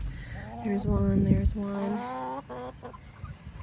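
Wyandotte chickens in a small backyard flock cluck and call close by, a burst of harmonic calls mixed with a person speaking briefly over them, then quieter intermittent clucks.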